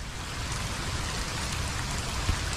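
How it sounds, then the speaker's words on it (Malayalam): Heavy rain pours steadily on a monsoon day by Chinese fishing nets in Kerala, a dense, continuous close hiss with no voices. "അപ്പൊ നമ്മളെ ചീനവലേന്റെ മൂന്നാം ദിവസം ഇങ്ങനെ പോയത്, നല്ല മഴയാണ്."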